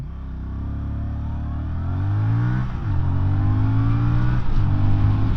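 A Voge R625 motorcycle launches and accelerates hard toward 60, its engine note climbing in rising sweeps broken by brief dips at each gear change, loud and close with no talking.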